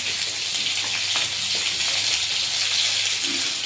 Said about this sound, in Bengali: ফোড়নে দিয়ে দিলাম কালো জিরে, 4টে কাঁচা লঙ্কা চিড়ে দিয়েছি মাঝখান থেকে